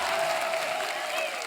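Studio audience on The Kapil Sharma Show breaks into steady, dense applause, a brief burst of clapping heard up close.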